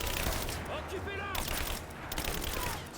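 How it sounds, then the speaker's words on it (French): Suppressive gunfire in the Rise of the Tomb Raider video game, a dense continuous fusillade of shots filling the moment alongside other game sounds, with voices talking over it. "Tire de suppression."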